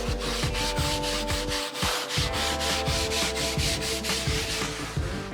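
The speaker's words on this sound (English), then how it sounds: "I'm going to take this Dawn power wash, and then we're just going to scrub it real good." Rhythmic scrubbing of a Blackstone griddle's flat steel cooktop with Dawn power wash, strokes repeating about three times a second, loud and close with a steady rasping, sanding-like texture and no talking.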